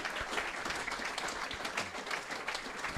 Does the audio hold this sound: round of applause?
yes